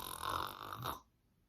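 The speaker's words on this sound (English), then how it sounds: "He let out a loud snore," A loud, close snore from a sleeping sloth: one long, rough rasping breath lasting about a second, then cutting off into near silence.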